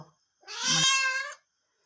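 A single drawn-out cat meow, clear and close, rising and then fading, in an otherwise quiet space.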